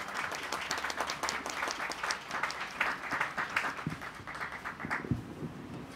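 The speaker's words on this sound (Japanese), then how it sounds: "拍手。" A crowd at a family winter festival at a Japanese home builder's showroom in Ishikawa gives steady, dense applause to welcome a singer, continuous and fairly close for several seconds with no talking.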